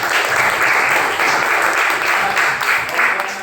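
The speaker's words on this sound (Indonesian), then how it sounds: "Ya, tepuk tangan untuk kita semua" A classroom of primary-school pupils claps together in a steady, dense burst of applause that carries evenly through the whole stretch, fairly loud and close, with no voices over it.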